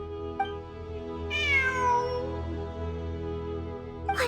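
A cat meowing in the video game Genshin Impact, one clear drawn-out meow in the middle over a quiet sustained musical background, with faint short sounds at start and end.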